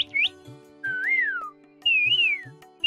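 A man whistles an imitation of a koel (Asian cuckoo): three rising-and-falling whistled calls, close and clear, separated by short pauses, with a low steady background hum.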